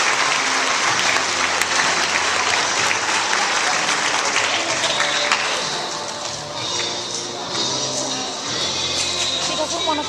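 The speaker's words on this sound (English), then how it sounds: "So please give them a round of applause." A meeting audience applauds steadily, dense clapping that stays loud throughout and tapers slightly toward the end, with some voices mixed in.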